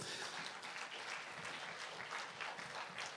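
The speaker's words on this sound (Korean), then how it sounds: "박수 한번 쳐보십시오." A crowd claps steadily, a dense wash of applause that stays even throughout.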